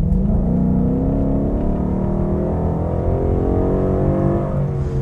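A Ford Mustang GT with a 5-litre V8 rumbles loudly and steadily up close, its deep engine note rising slightly in pitch as it revs, with no talk over it.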